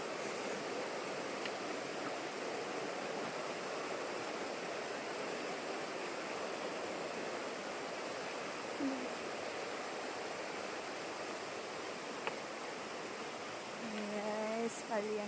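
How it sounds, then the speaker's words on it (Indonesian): The Jagier twin waterfall in Indonesia roars in a steady, dense rush of falling water that stays even and full throughout, with a few faint voices and small sounds surfacing near the end. "itu dia air terjun kembar atau sering disebut wisata Jager"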